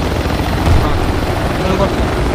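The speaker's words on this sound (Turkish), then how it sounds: "Uçak uçak abi uçak." An aircraft flies overhead in the Project Reality military video game, a loud continuous rotor-like rumble and engine drone filling the scene while players talk over it.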